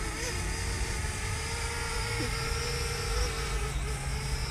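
A JJRC H62 Splendor selfie drone hovers outdoors in the wind, its small rotors giving a steady, insect-like high buzz with slight pitch wobbles as it struggles, mixed with wind rumble.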